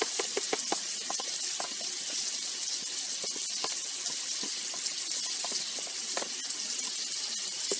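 Onions and garlic sizzle in hot fat in a sac kavurma pan, a steady close frying hiss with scattered small pops and crackles, no talk.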